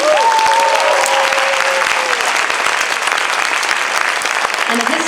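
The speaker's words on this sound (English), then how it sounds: "have one more round of applause for the symphonic band, please?" A school concert audience applauds a symphonic band with loud, sustained, even clapping that fills the room, and a voice calls out briefly over it near the start.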